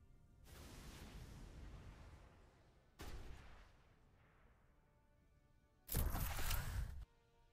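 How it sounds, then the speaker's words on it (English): Missiles launch from a base in the space strategy game Galactic Civilizations 4, sounding as three separate booming bursts of rumbling fire, the last loudest and sharpest, with quiet gaps between. "We can fire missiles from our base."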